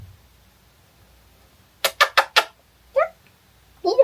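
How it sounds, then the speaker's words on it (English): A cat meows close by: a quick series of three short calls, then one more and a final longer meow after brief silences, in an otherwise quiet room. "Ay, qué lindo este gato."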